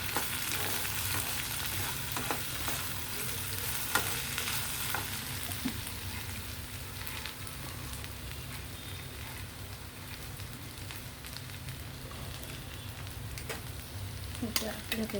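Sprouts stir-frying in a hot pan, with a continuous close sizzle like light rain and occasional scraping stirs running throughout, with no voices.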